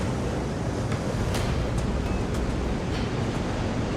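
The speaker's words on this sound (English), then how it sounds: "a rogue wave crashes on the ramp, knocking a girl between the railings." Sea surf surges against a pier slipway and ramp, a constant loud roar of churning water and wind buffeting the microphone, with a few sharper splashes breaking through.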